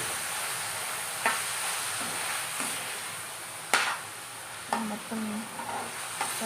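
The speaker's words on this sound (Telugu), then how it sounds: "కలుపుకొని పచ్చివాసన పోయేంత వరకు ఫ్రై చేసుకోండి" Egg fry masala stirred and fried in a pan over a medium flame, with a steady sizzle under a spatula that scrapes and taps now and then. A voice speaks one brief word.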